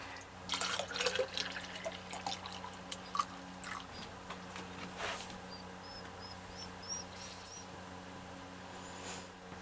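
Water trickles and drips softly into a 32-ounce bottle through a filter at an off-grid A-frame cabin, with faint gurgling and small squeaks over a quiet, humming background.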